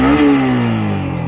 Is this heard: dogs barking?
no